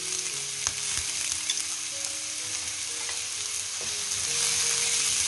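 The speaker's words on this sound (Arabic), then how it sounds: "غنخلي هاد المكونات الأولى تحار شي شوية" Chopped onion and garlic fry in olive oil with a steady, dense sizzle, broken by a few sharp crackles and the occasional stir, with no one speaking.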